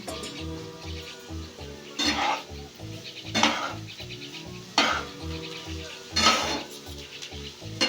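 Sanchi greens sizzle in a pan while a spatula stirs sugar through them, steady frying hiss broken by louder scraping strokes roughly every second and a half.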